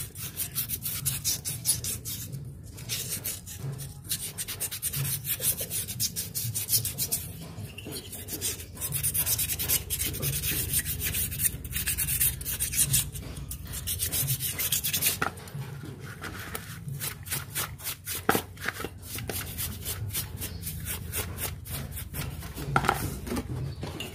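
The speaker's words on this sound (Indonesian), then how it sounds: "Kita amplas sekali lagi." Sandpaper rubbed back and forth over a Yamaha V80 motorcycle engine part during a compression-leak repair, giving a continuous gritty rasping of dense, steady strokes close up with no voices.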